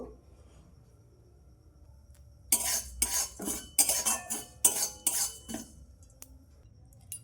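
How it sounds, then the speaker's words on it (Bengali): Whole spices dry-roast in a hot wok: after a couple of near-silent seconds, a burst of sharp metallic spatula scrapes and rattling clatters comes close up, then fades back to quiet. "এবার গোটা মশলাগুলো শুকনো খোলাতে ভেজে নেব"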